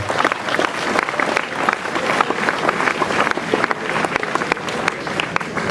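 Crowd clapping at a school sports homecoming gathering, brisk and continuous with individual claps popping out of the dense wash, held at a fairly even level throughout.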